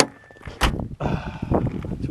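A car door on a junkyard Subaru swings shut with a solid close thump, followed by rattles and handling noises from the same vehicle, heard up close.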